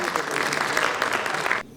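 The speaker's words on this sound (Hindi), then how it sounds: "तालियां" An audience at an evening poetry gathering breaks into a short, dense burst of clapping that cuts off abruptly after under two seconds.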